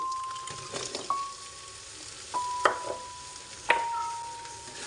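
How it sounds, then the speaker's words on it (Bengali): Bael fruit pickle frying and being stirred in a pan with five-spice seeds, a soft sizzle broken by a few sharp clinks of a utensil against the pan and a faint ringing tone. "এক মিনিট নেড়েছেড়ে একটু ভেজে নিচ্ছি"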